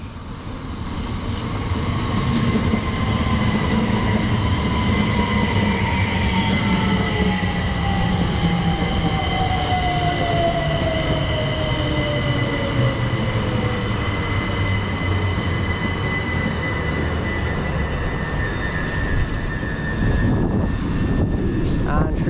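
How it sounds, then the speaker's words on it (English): A Southeastern train on the Dover Priory to London Charing Cross service pulls into a station platform, a loud, steady rumble with a whining motor tone that slowly falls in pitch as it draws in close, lasting throughout. "coming in now is going to be the 1321 Southeastern service from Dover Priory to London Charing Cross"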